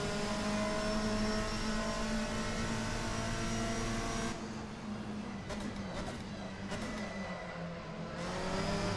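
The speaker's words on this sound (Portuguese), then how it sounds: "O som desse carro que tá esquisito. Quando eu tô acelerando assim, ele é bem alto." A car engine accelerating in the Assetto Corsa racing game: a steady, droning whine with sustained tones that thins out midway, carries a few sharp clicks, then swells back to full volume.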